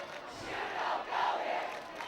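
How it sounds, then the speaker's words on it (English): Crowd of high school football fans chanting in unison from the stands, a rhythmic two-swell chant rising and falling at moderate distance with broad crowd noise around it. "You hear the "You don't go here" chant"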